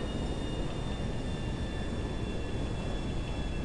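In GTA V, the Alkonost aircraft flies with a constant, dense engine roar and rushing air, steady and unbroken throughout with no voices.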